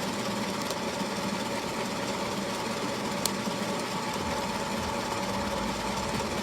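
Ethiopian Yirgacheffe coffee beans roast in a Corretto roaster under a loud, constant mechanical roar, with only a couple of faint cracks rising above the steady drone.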